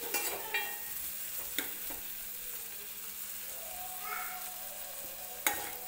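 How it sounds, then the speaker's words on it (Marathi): Tomatoes roasting in a pan for a spicy chakolya dish, a low, steady sizzle broken by a few sharp utensil clicks and scrapes, fairly quiet and close, with no talking. "छान असं भाजून घ्यायचं आहे टोमॅटो आपल्याला."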